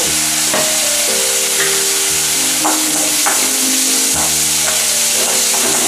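Onion and tomato sautéing in a pan for Kelagan fish curry, a steady close sizzle and frying hiss with occasional stirring scrapes, no talking.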